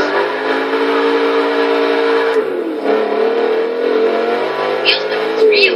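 A 2015 Camaro V8 in Forza Motorsport 6 drones steadily and loudly, its engine note rising and shifting pitch mid-drive as another car races alongside.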